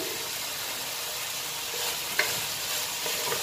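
Butter sizzling in a hot pan for a light dinner dish, a steady broadband hiss throughout with one brief sharp crackle midway, no voices.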